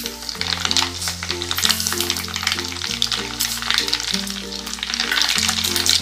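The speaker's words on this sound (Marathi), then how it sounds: "इथे आपण जे तेल तापत ठेवलेलं आहे त्याच्यात आपण किंचित मोहरी घालून बघूया" Mustard seeds crackle and sizzle steadily in hot oil being tempered for a mixed vegetable pickle, a close, continuous frying hiss with a melodic tune playing underneath.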